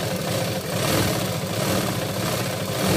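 Stitching blouse lining onto the main fabric, a sewing machine hums continuously at an even, close, moderately loud level with no pauses.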